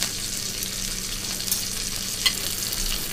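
Fish fries in a restaurant pan with a loud, steady, broadband sizzle, close and continuous, marked by a couple of brief clinks.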